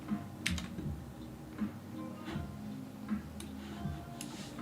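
Keys on a computer keyboard clatter in short, irregular bursts of clicks close by over a steady low hum, with no speech.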